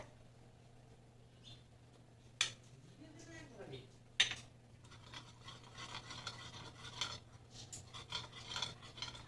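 A spoon stirs food colouring into a bowl of pancake batter for Bou Sundori patishapta pitha, giving soft scraping and rubbing with a couple of sharp clinks against the bowl, faint and close, with quiet background noise.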